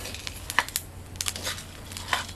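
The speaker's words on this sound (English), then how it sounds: "You can hear the beans popping." Coffee beans pop in a pan as they roast, scattered sharp crackles and snaps at irregular intervals over a faint background hiss.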